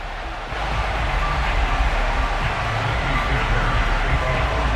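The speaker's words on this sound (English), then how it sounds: "a moment ago they entered to the delight of this sold-out crowd" A simulated sold-out football stadium crowd in Madden 22, Bills against Texans in Buffalo, roars in a dense, continuous wash that swells after a quieter start and holds steady.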